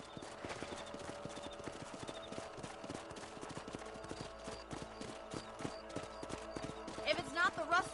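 Steady rhythmic clip-clop of horse hooves in the video game Red Dead Redemption, with music and a voice underneath, and a brief whinny near the end.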